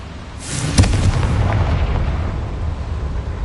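A Confringo fire spell bursts in Hogwarts Legacy, a sharp explosive boom with a sizzling crackle and a rumbling tail that lingers for a few seconds.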